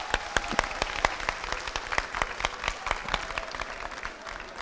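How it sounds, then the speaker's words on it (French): A TV show audience claps for a choreographer in a dense, steady run of sharp hand claps that keeps a loose rhythm and stays at moderate volume throughout. "Applaudissements pour lui"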